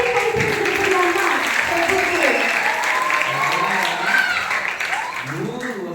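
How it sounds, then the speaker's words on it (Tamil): An audience in a church breaks into sustained, dense applause at a children's Vacation Bible School program, the clapping loud and continuous throughout, with voices and murmurs mixed into it. "எல்லாரும் ஒன்ஸ் மோர் ஒரு பெரிய கைத்தட்டல் கொடுக்கலாமா?"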